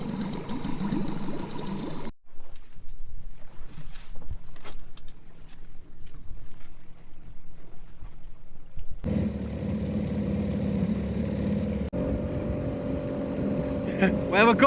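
A small motor dinghy out on the water off Roscoff in northern France, its outboard droning steadily, dropping away to quieter water and knocks midway before the engine hum returns loud and close.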